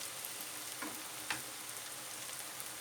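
Potato köfte frying in oil in a pan, a steady, fairly quiet sizzle running throughout, with a couple of brief scraping touches from a spoon partway through.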